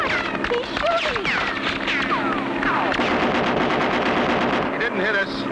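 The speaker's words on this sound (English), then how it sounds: "Look, he's shooting." Rapid cartoon gunfire crackles through an animated aviation scene, a dense stuttering burst running beneath overlapping dialogue and whooshing engine-like noise throughout.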